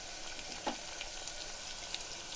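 Pre-fried prawns drop into hot oil in a pan, a faint, soft crackle and sizzle with a brief louder spit near the start, then quiet steady frying.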